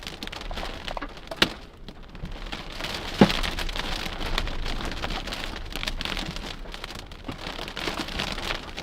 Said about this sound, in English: Big wind. Here it comes.